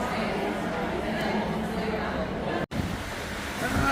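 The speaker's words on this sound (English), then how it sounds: "And it is still absolutely pouring down outside." Heavy rain pours down outside, a steady loud broadband hiss filling the background, with faint voices underneath.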